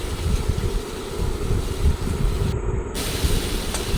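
Onion, ginger and garlic paste frying in hot oil in a pan, a steady close sizzle and crackle that carries on without a break.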